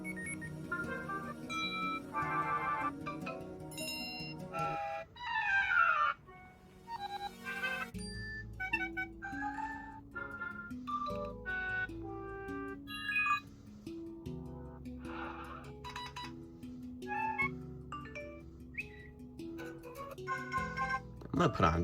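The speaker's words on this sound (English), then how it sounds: "Let's also go through the alert tones." A series of short iPhone alert tones from iOS 6 beta 1 plays one after another, with bright chimes, beeps and melodic jingles separated by brief gaps, clear and moderately loud with no speech over them.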